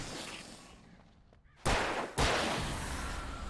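Gunfire in the video game Alan Wake Remastered: two loud, sharp gunshot blasts about half a second apart, each followed by a sustained roar, over a dense background of game sound.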